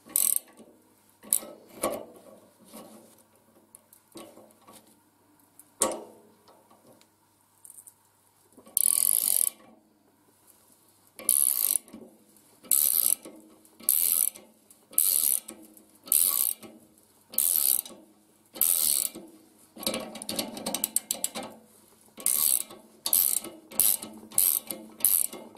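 An inner bearing puller tool for removing needle bearings from a VW Beetle beam is turned at its centre, giving a rapid series of close, crisp ratchet clicks in bursts, sparse at first, then steady repeated strokes with short pauses.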